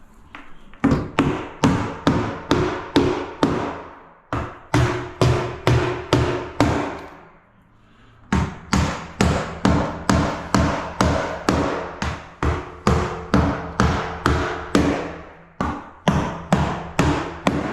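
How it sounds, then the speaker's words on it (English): Nails are hammered into cement sheet laid over a wooden floor: loud, close, evenly paced hammer strikes in quick runs of blows, broken by two short pauses, with no talk. "You nail it off every roughly 100 mil."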